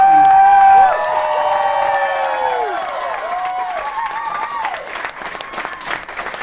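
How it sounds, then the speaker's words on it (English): A comedy club crowd applauds and cheers comedian Traci after her set, with loud whistles and shouts early on over sustained clapping that gradually eases. "Everybody please give a round of applause for Traci."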